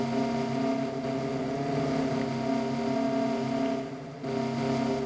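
A damaged, burning car in a Minecraft vehicle mod runs with a steady, buzzing, harmonic engine drone that dips briefly near the end before returning at the same level.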